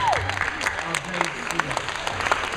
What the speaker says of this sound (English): Let's give a round of applause for our great